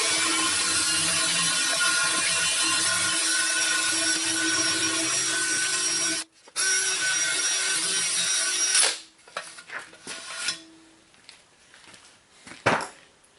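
A power drill with a cleaning attachment scrubs crud off an aluminum wheel rim before a tire is mounted. A loud, steady whirring grind runs for about nine seconds with a brief pause, then breaks into scattered, fainter scraping bursts.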